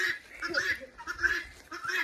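Several guinea hens call in loud, harsh, repeated bursts, a noisy flock nearby with rhythmic squawks recurring every half second or so through the clip.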